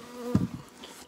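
Honey bees buzz briefly at an opened hive during an early March inspection, a short close hum swelling for a moment over a quieter background drone.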